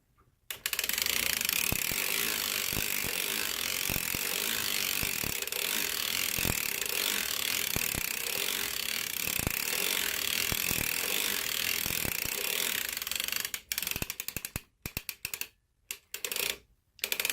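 A circular sock knitting machine is cranked while knitting a newborn baby bonnet, producing a loud, continuous whirring and clattering with regular clicks that stops and starts near the end.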